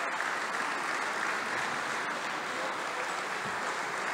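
A packed basketball arena gives a steady, dense roar of applause for Zakis Papadopoulos at his final appearance, during an AEK versus ENP Greek Basket League play-off game. The clapping is loud and continuous, with no clear break.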